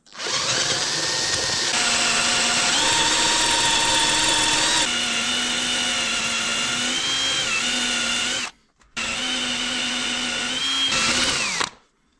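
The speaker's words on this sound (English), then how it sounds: "I think it's some special bolt, some type of hardened material. It's really hard to drill through it." A power drill grinding into a hardened bolt, overhead against gravity, whining loud and steady for about eight seconds with shifting pitch as it bites, a brief stop, then another sustained run.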